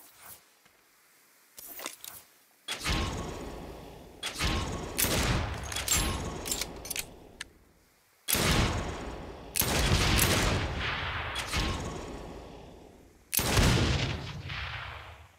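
Gunfire in Saints Row: loud, close bursts of rapid automatic shots in several long volleys separated by short gaps, with sharp single cracks and a reverberant tail after each burst.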